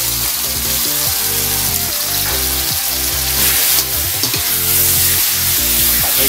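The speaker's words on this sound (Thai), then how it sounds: "ผัดให้สุกเลยครับท่านผู้ชม" Pork and chili stir-fried in a hot pan, a loud constant sizzle with a steady low mechanical hum underneath, close up and uninterrupted.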